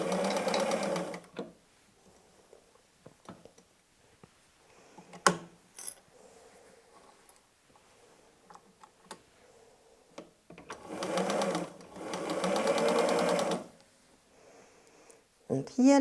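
Sewing machine stitching a seam on patchwork fabric, with short bursts of fast mechanical whirring and chattering needle action separated by pauses filled with small clicks and handling noises.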